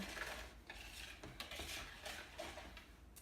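A whisk scrapes and stirs whole wheat banana pancake batter in a bowl, a faint, steady, continuous swishing with small clinks and no voices.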